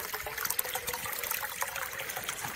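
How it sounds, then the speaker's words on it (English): Spring water trickles from a buried pipe on a snowy, muddy farm, making a faint, continuous splashing dribble with small irregular bursts and no voices. "Here's where the spring water comes out."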